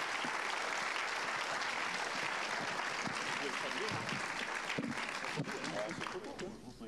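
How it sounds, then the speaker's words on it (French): An audience applauds at the close of a French-language event, dense sustained clapping that holds steady for several seconds before easing slightly, with voices mixed into it. "Je pense qu'on peut les applaudir."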